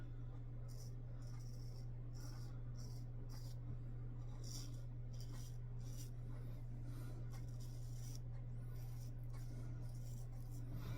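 A freshly honed and stropped straight razor of about 4/8 size scrapes across stubble in short, quiet, repeated strokes, close and intimate over a constant low background hum.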